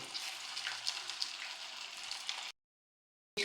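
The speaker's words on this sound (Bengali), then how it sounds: "এবার তেলের মধ্যে আমি এগুলোকে বেশ ভালোভাবে ফ্রাই করে নেব।" Crispy snacks deep-fry in medium-hot oil in a frying pan, giving a loud, bubbly, crackling sizzle with a few sharp pops, then a sudden stretch of silence before the frying returns briefly.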